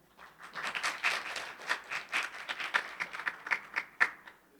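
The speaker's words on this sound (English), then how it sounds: "a round of applause for our current speaker" A round of applause at a webinar on ASEAN Taxonomy Version 4, moderate clapping from a small audience that swells and then thins into scattered claps, alone without talk.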